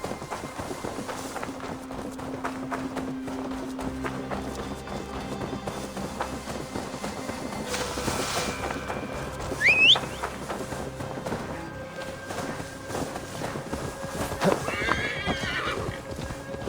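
Galloping hooves and a sharp neigh from a horse in Assassin's Creed Valhalla, rhythmic clip-clop running steadily throughout with the whinny rising clearly in the middle.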